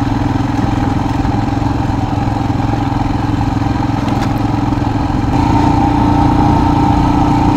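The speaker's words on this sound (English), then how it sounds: "I wanted to check this bike in the rough road." A Royal Enfield Himalayan 411 motorcycle engine runs steadily and loud throughout, a continuous low mechanical drone with a light clattering texture, as if idling or riding slowly on a rough road, with no talk.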